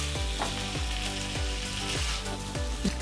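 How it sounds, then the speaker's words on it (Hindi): Par-boiled potatoes fry with mutton and spices, a loud, continuous sizzle close up, broken by regular scraping strokes of a spoon about every half second. "अब आलू को भी हम अच्छी तरह मटन के साथ और मसाले के साथ भूनेंगे।"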